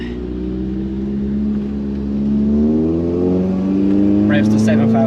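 A track-modified 170 hp VW Lupo GTI engine revs up toward 7,000 rpm, its loud, close drone climbing steadily in pitch over several seconds.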